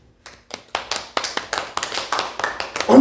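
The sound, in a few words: congregation clapping hands in church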